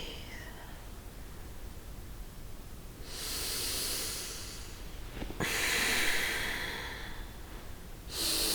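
Deep breathing while holding the arms up in yoga: three long, hissing breaths, close and fairly soft, with the second the strongest, separated by quiet stretches of low room noise.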